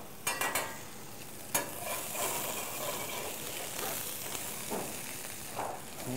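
Large langoustines sizzle in a little butter in a pan, a dense, steady frying hiss close up, with a few sharp clicks and scrapes as they are turned.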